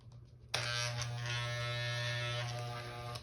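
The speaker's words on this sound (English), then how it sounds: "I know I need to oil the trimmer" An electric hair trimmer that needs oiling, used for a home haircut, switches on after a brief quiet moment and then buzzes steadily and loudly at close range, with a constant droning hum and no talking.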